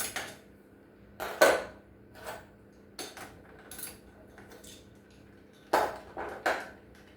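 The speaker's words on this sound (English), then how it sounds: "Put that up in my parts dish." A metal nut from a skateboard wheel dropped into a metal parts dish, giving several light clinks and rattles separated by quiet gaps, close and fairly soft.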